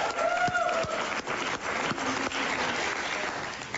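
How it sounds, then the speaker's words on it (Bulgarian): A studio audience on a Bulgarian television show claps steadily, a dense and even round of applause heard up close and alone. "Ето аплодисменти от цялата публика имаш."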